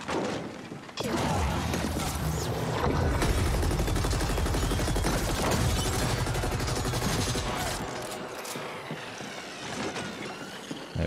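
A shotgun fires rapidly in the video game The Ascent, the blasts crashing loud and dense amid explosive impacts and whooshes, easing slightly toward the end.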